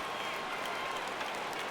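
A stadium crowd in the MLB The Show 19 baseball video game applauds and cheers as a faint, steady wash of clapping with no pauses.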